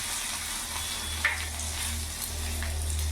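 Chopped garlic, around ten to twelve cloves, sizzling in hot oil in a pan, a steady close crackle and hiss with faint stirring ticks, no voices.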